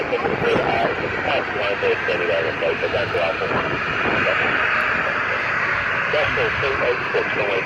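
Aircraft at Manchester Airport roaring steadily with a loud broad engine rumble and whine, heard under continuous air traffic control radio talk.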